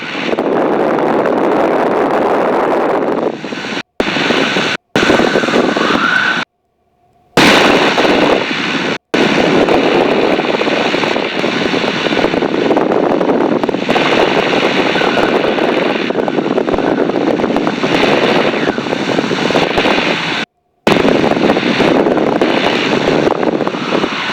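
Tiger Moth biplane engine heard from inside the aircraft in flight, a loud steady droning roar with heavy wind buffeting, broken by a few brief dropouts.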